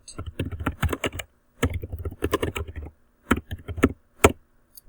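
Rapid bursts of typing on a computer keyboard as a website title is entered, keys clattering close and clear in three quick runs separated by brief pauses, ending with a few isolated taps.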